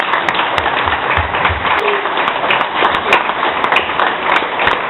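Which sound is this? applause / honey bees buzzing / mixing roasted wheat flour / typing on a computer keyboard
applause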